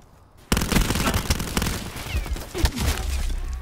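Video game shootout gunfire, a sudden burst of rapid automatic shots that opens sharply and keeps rattling in dense volleys with a heavier blast near the end, loud and close.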